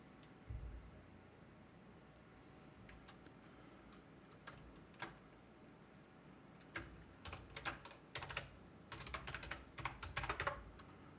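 Fingers type on a computer keyboard, sparse isolated key clicks at first building into quicker bursts of clattering keystrokes near the end, close and quiet against a faint room hum.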